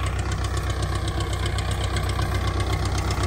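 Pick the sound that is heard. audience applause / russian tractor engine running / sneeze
russian tractor engine running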